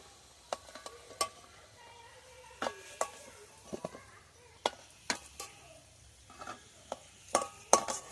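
Potatoes frying in hot oil and being stirred, heard as a series of sharp, separate scraping and clinking strokes over a faint, steady sizzle, close by with no talk.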